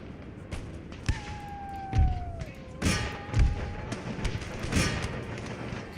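Heavy booming thuds of Napoleonic-era cannon fire in the strategy game Empire: Total War land every second or so, deep and punchy, over a low rumbling battle din with a faint whistling tone.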